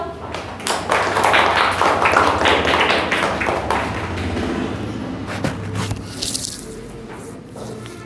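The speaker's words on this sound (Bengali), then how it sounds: "ধন্যবাদ সবাই জোরে হাততালি দাও" Schoolchildren in a Bangladeshi classroom clap loudly together, a dense, sustained burst of many hands that gradually thins and softens toward the end, with a few voices mixed in.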